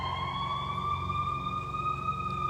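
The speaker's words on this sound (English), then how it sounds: "You hear the sirens?" Sirens wail in long, steady rising tones over a low rumble of traffic, moderately distant but clear, with no voices.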